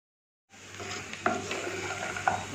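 Raw peanuts roasting in hot refined oil in a pan, a steady close sizzle with a couple of brief stirring knocks, starting after a half-second of silence and running alone without talk.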